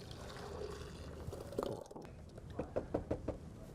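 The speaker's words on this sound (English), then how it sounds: "we're going to pour that back into the blender" Melted mixture for plant-based mint chocolate chip ice cream is poured back into a blender, giving a soft liquid pour, followed by several short knocks and taps against the container near the end.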